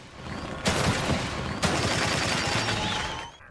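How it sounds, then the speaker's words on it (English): Gunfire in The Evil Within 2's shooting gallery mode, a video game: sustained rapid shots form a dense fusillade, with two sharp louder bursts punctuating the continuous firing. "there is a shooting gallery mode that you can access from Sebastian's office"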